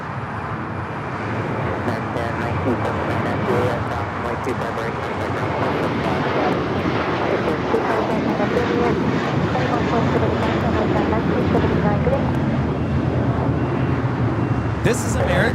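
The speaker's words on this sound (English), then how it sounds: "This is American Airlines 2570 taking off to Charlotte on the A321" An American Airlines Airbus A321 takes off from LAX, its engines a loud, steady broadband roar sustained throughout, with people talking nearby at an outdoor plane-spotting spot.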